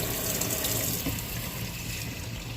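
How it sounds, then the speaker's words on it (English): Tap water runs steadily into an engine cooling system during a coolant flush for a blown head gasket repair. The gushing is continuous and fairly close, with no talk over it. "I'm gonna rinse this out with some water."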